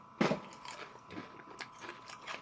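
Yegam onion-flavored potato chips crunched close to the mic, a sharp loud first bite followed by quieter, irregular chewing crunches, with no talking.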